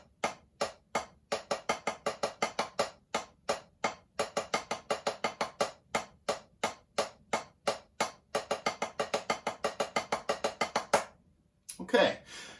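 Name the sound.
drum roll exercise with doubles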